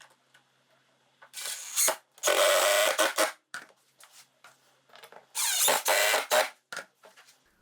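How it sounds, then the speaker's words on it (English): A power drill drives screws to fasten glued jig sides onto a base plate for a slab flattening router sled, in several loud whirring bursts of one to two seconds separated by short pauses and small handling clicks. "all you need to do is glue and screw the sides to the base plate."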